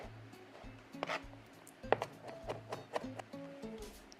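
A knife chops garlic on a cutting board in irregular, sharp taps, with soft background music underneath.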